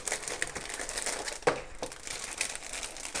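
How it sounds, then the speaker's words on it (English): Plastic packaging around an Apple Infinite Loop rainbow cotton T-shirt crinkles and rustles up close, with one sharper crackle midway through the quiet handling. "it comes in this plastic packaging"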